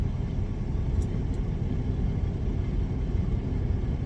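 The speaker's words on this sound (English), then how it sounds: "The truck is running, it's on Opti idle, it hasn't gone off since I've been here." A parked truck idles on Opti-Idle in warm weather, giving off a steady, low, continuous engine rumble at close range with no speech over it.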